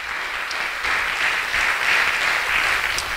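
An audience at a local Democratic club meeting applauds, with dense, continuous clapping that builds slightly and then holds steady and fairly loud for the full stretch, with no voices over it.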